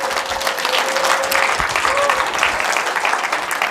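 A lecture audience at a workplace safety training session claps loudly and steadily, a dense wash of many hands close by.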